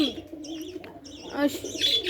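Domestic deshi pigeons kept in an enclosed pigeon farm coo in soft, repeated warbling phrases close by, with a few light chirps in between.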